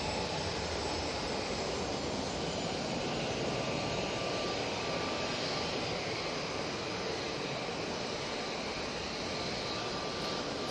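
A plane lands at Manchester Airport, heard as a continuous broad roar of jet engine noise, steady and fairly loud from start to finish with no talk over it.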